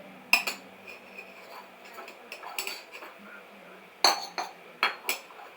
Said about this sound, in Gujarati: વાસણ ઘસતા આવડતું હોય ને.